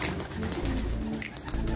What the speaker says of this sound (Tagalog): Overfly na mga kalapatids.